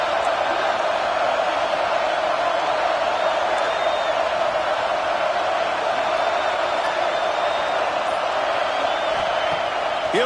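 Football stadium crowd roaring in a loud, unbroken wash of cheering that holds steady from start to end.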